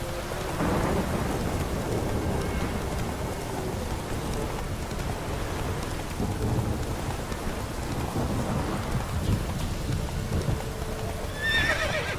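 Thunder rumbles through steady heavy rain in The Witcher 3, a dense, loud storm wash that goes on without a break, with horse sounds mixed in and a brief higher cry near the end.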